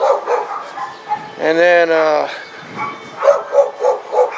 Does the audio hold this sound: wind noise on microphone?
no